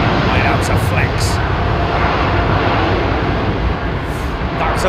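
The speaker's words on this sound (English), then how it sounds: "That was a big flexy takeoff, man. Lots of power used there, man." A heavily loaded airliner takes off on a long-haul flight to Perth, its engines a loud, steady broadband roar that holds for the whole stretch with no talk over it.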